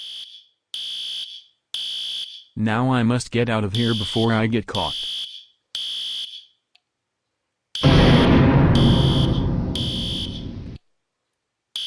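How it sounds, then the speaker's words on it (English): A hotel fire alarm blares in sharp, evenly spaced electronic beeps, loud and close, pausing while someone speaks and then beeping again under a rushing noise burst. "I'm going to pull the fire alarm in the hotel as a prank."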